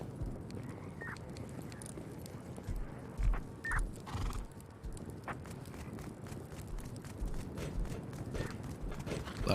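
Horse hooves clip-clopping in the survival video game Rust, a faint irregular patter of hoofbeats over a steady noisy game ambience.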